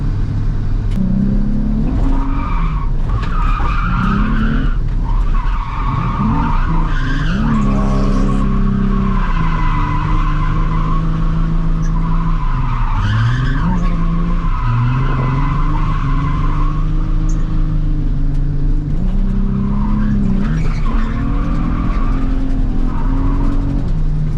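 Nissan 350Z drifting through a road rally stage in Switzerland, its engine roaring and revving continuously while tires squeal and skid, loud and close throughout with pitch rising and falling as it slides.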